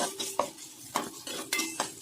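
Ginger garlic paste fries in a pan while a spoon stirs it, giving a string of scraping, clinking strokes roughly every half second over a faint sizzle, close and fairly quiet with no talking.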